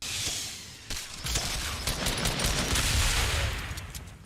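Rapid bursts of gunfire in the battle royale game Fortnite, loud repeated shots and a rattling automatic volley that continue steadily with no talking over them.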